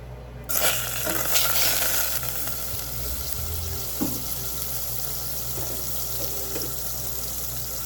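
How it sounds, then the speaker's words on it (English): Butter melting in a frying pan gives a steady, close broadband sizzle that holds level throughout, with a few faint clinks and no voices. "Adding a little butter to grease my pan."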